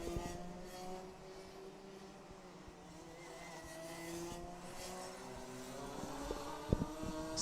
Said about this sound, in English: So whilst the annoying revving happens behind me